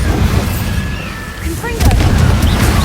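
Spell explosions from the Confringo and Bombarda charms in the video game Hogwarts Legacy: booming blasts and bursts over a steady rumbling game backdrop, with a heavier surge near the end.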